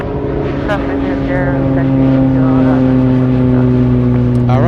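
A Boeing 747 Dreamlifter starting to taxi at Anchorage airport, its jet engines giving a loud, steady droning hum with sustained tonal whine, while a voice talks briefly over it.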